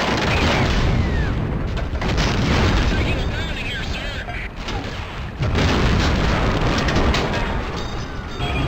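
Explosions from the PC game Medal of Honor Allied Assault, 2002, form a dense continuous rumble of booms and blasts, loud throughout, with a voice talking over the top.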